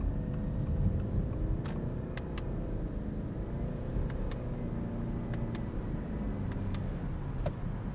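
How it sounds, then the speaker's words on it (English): A 2026 Subaru Crosstrek Hybrid engine hums and rumbles steadily from inside the cabin while driving in manual mode near snow, a constant moderate drone with faint clicks and no speech. "Kind of just changes the pitch of the engine."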